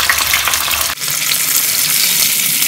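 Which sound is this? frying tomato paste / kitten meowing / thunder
frying tomato paste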